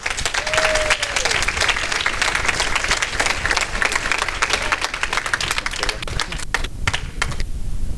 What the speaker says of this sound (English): can we give a round of applause to Jamira Castro?